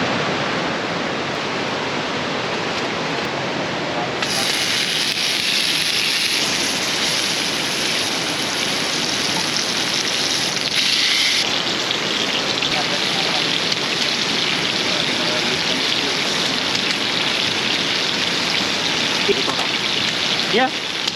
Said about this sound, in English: Raining over there.